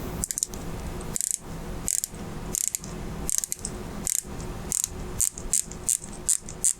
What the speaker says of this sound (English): The clicks sound great and are very crisp